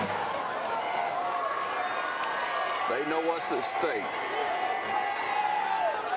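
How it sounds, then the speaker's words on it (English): Crowd noise at a high school football game between the Perry Panthers and West Laurens Raiders, heard as a steady distant murmur of spectators and a band's crowd, under close commentary talk. "they got a big crowd over there"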